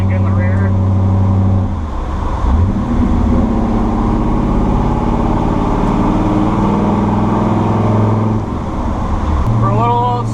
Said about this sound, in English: For a little old small block, I'd say this truck's got power on tap.